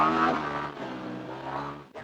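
A big motorcycle's engine revs and pulls hard while riding through deep sand, a loud, close, harmonic drone that swells at the start, eases, then climbs again before a sudden dip.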